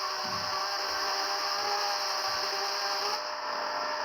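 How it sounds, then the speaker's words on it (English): Hand sanding of a previously repaired plastic car bumper, a steady close rubbing and scraping texture that continues for several seconds, with no voices. "We sand it until the plastic."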